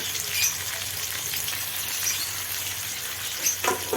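Tomato and ground spices fry in hot oil with lightly fried onion for a chicken gravy, a loud steady close sizzle with faint stirring scrapes over it. No talking.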